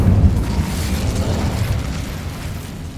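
The Incendio fire spell is cast in Hogwarts Legacy: a deep, booming fiery burst that swells at once and then rolls on as a dense rumbling roar, loud and alone.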